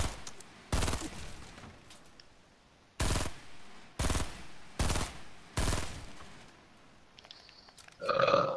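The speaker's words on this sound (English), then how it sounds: "I hear shooting at the factory." Short automatic gunfire bursts in a multiplayer shooting video game sound in several separate rapid volleys with quiet gaps between them, fairly close.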